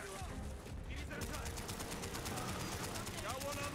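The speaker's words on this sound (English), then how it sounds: "Machine guns are very inefficient." Machine gun fire in the video game Call of Duty: Black Ops, a rapid, steady stream of closely spaced shots running almost the whole time, loud and continuous, after a brief noisy opening.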